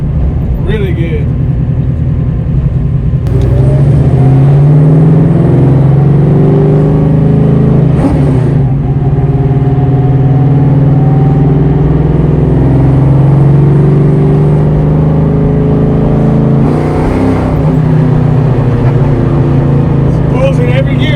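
Ford 387 stroker V8 with Mac mufflers pulling hard through the gears from inside the car, a loud, rough exhaust roar rising in pitch with each gear and dipping at the shifts, sustained throughout.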